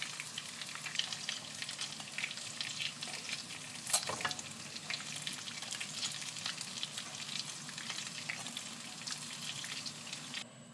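Cheese-filled chicken meatballs frying in a pan, a steady crackling sizzle throughout with one sharp knock partway, close and moderately quiet, no talking.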